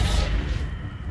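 A Reductor spell cast in Hogwarts Legacy bursts out as a short, dense low whoosh and boom that fades over about a second.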